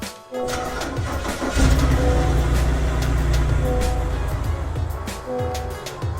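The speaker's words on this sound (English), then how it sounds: "I'm pretty sure you just heard the startup, but if you didn't, I'll play it again." A car engine in the Roblox game Greenville cranks and starts, then settles into a steady mid-pitched running drone that stays loud and close before easing slightly near the end.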